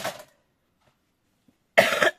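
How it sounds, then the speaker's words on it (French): One woman coughs nearby in two distinct bursts, a short cough at the start and a louder, harsher one near the end, with silence between. "Je suis désolée, je tousse."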